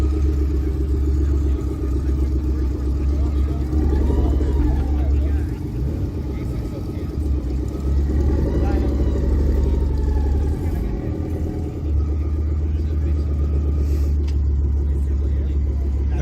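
Engine of a Lister Bell Lancia Stratos rumbles steadily from inside the car while driving at a cars-and-coffee meet, a loud continuous low drone with swelling revs, voices talking over it.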